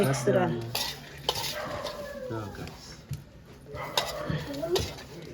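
Dhokli flour dough is stirred and mixed by hand in a bowl, with soft scraping and the odd clink of utensils, under a voice talking throughout and a dog barking briefly in the background.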